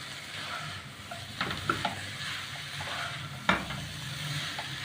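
Spiced potatoes fry in a pan with a soft continuous sizzle at low level. A spoon stirs them, adding a few scraping knocks and one sharper clack near the end.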